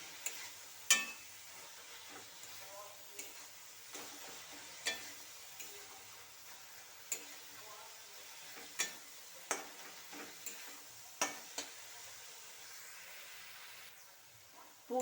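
Coconut filling with milk powder being stirred in a pan for patishapta pitha, giving a soft scraping hiss broken by repeated light taps of the spoon against the pan, close by and with no one talking.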